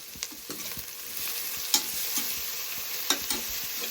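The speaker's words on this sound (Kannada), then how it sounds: "ಅದಕ್ಕೆ ಕಡಲೆ ಬೀಜ ಹುರ್ಕೊಂತ ಇದೀವಿ." Peanuts roast in a pan over an outdoor village fire, with a steady dry rustle and sizzle broken by sharp scraping stirs at irregular intervals, heard close and with no voices.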